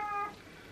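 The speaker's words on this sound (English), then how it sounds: "that was my cat" A house cat gives one short, fairly faint meow lasting about a quarter second, followed by quiet room tone.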